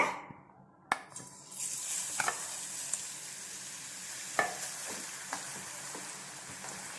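Grated carrot sizzling in hot coconut oil after a sharp drop into the pan, with steady frying hiss and occasional stirring clinks, close up.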